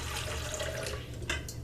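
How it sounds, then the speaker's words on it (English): Warm water, about one and a half cups, is poured into a KitchenAid mixer bowl, making a faint, steady splashing stream with a brief louder gush near the end, no talking. "I just pour mine into my KitchenAid"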